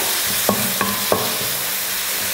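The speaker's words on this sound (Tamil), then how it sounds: "இப்போ இதை வதக்கிடலாம்." Food sizzles steadily in a hot pan while a utensil scrapes and stirs it a few times.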